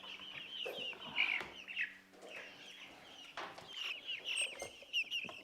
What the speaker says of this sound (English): Silly chickens.